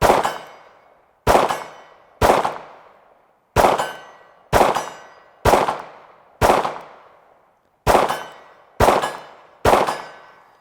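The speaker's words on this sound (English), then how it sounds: "we're going to take some shots just to see how well I can do at 50 yards with this thing" Ten loud, close pistol shots from a Ruger American 9mm fired at a target 50 yards away, each a sharp crack with a ringing decay, spaced about a second apart at an uneven pace.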